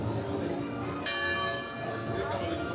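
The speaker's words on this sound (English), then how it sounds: "12 o'clock. The bell's chiming." Magic Kingdom bell at Disney World chiming twelve o'clock, a struck bell tone with ringing overtones rising over busy theme-park crowd noise, a second strike following about a second later.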